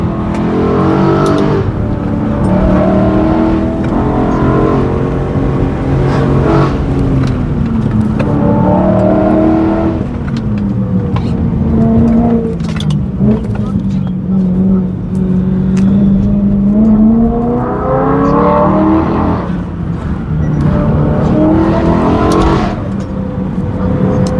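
During a test drive after suspension tuning and wheel alignment, the car's exhaust note rises and falls through several hard accelerations and shifts, loud and near, heard from inside the car without any talking.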